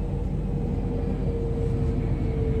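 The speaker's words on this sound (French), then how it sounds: "il y a un avion" A low, steady drone of an airplane passing overhead, distant and continuous with no voices.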